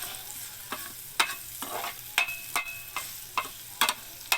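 Tomatoes sauté in a pan for ginisang bagoong isda, a steady close sizzle broken by sharp scraping stirs of a spoon at irregular intervals.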